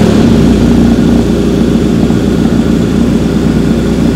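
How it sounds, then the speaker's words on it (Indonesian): A BMW R 1250 GS boxer-twin adventure motorcycle engine runs steadily at idle, a loud continuous low rumble with no talk over it. "Sekalian mau kita dengerin suara mesinnya."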